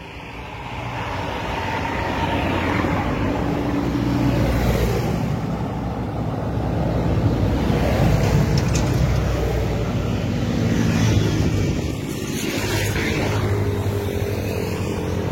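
A 2018 Toyota Avanza E 1.3 with manual gearbox idles with a steady, loud engine drone and broadband rumble that swells slightly over fifteen seconds, with no speech.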